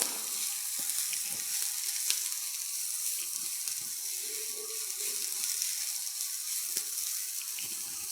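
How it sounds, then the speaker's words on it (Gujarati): Green onion and capsicum sauté in a hot pan for a healthy franki filling, a close, continuous sizzle with faint clinks and stirring rattles now and then, with no voices. "લીલી ડુંગળી અને કેપ્સિકમને સતરાતા વાર નથી લાગતી."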